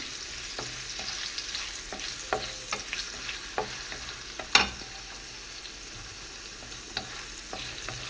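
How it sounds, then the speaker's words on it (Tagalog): Already-cooked food is briefly fried in a pan, giving a steady sizzle with stirring scrapes and light clinks of a utensil throughout, close and moderately loud with no voices. "i-fry lang natin ng konti kasi ito naman niluto na"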